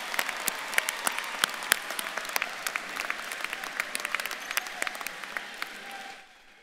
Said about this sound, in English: Graduates and colleagues, let's give them all a round of applause.